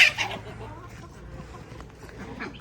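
A chukar partridge clucks as it hurries toward food, with soft, short calls near the start over a quiet outdoor background.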